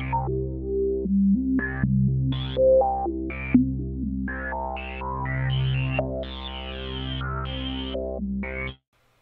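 A synthesizer tone jumps between random stepped pitches from a sample and hold controlling the oscillator pitch, each held briefly before the next, with an effected, echoing timbre; no voices.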